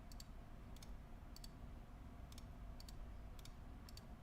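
Keys on a computer keyboard tapped in short, quick pairs of clicks that repeat at irregular intervals, faint over a steady low room hum.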